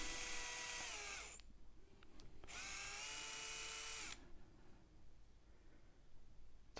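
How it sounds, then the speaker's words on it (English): A hand drill bores holes in a guitar headstock to fit Gotoh locking tuners, giving two whining bursts of the motor separated by a short pause, close and fairly quiet, then a quiet stretch of handling noise. "It's always quite terrifying drilling those holes as well"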